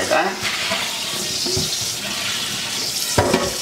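Tap water runs into a sink while mushrooms are rinsed by hand in a home kitchen, a steady splashing rush with occasional sloshes and handling knocks.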